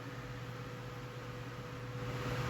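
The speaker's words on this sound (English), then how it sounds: "That one's really loud, that particular fan." A loud fan runs steadily close by, a constant broadband whooshing roar with a low hum underneath and no other sounds.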